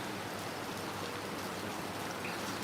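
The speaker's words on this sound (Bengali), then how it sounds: "আমার মতো কি আপনাদের ওদিকে বৃষ্টি হচ্ছে" Steady, even rain falls softly, a constant hiss of drops with no other sounds.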